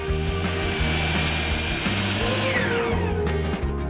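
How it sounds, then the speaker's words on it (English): A miter saw slices through wooden board pieces in a home workshop, its motor giving a steady, loud whirring buzz that winds down near the end. "Then cut using a miter saw."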